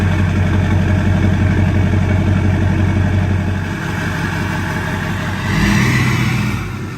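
A loud truck engine with a short 8-inch exhaust stack idling with a deep, rumbling exhaust note that drops slightly, then swells briefly before easing off again.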